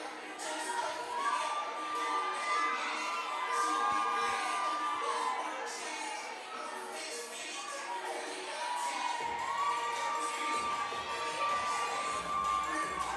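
A crowd cheers and shouts steadily throughout an indoor Burn Boot Camp fitness competition while athletes do jump-rope doubles, with whistle-like tones and voices mixed into the continuous roar.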